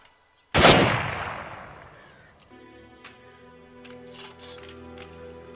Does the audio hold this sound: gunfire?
yes